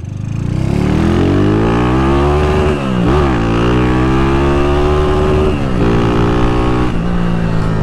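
A Honda Titan motorcycle engine runs loud and close after an electrical repair, holding a steady idle with a brief dip and rev partway through before settling back.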